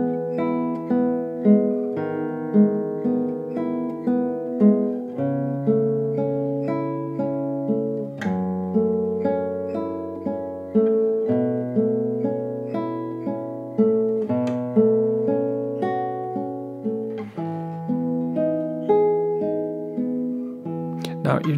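A guitar plays a fingerpicked arpeggio accompaniment, moving through a clear sequence of major seventh and suspended chords with evenly rolled notes, solo and close.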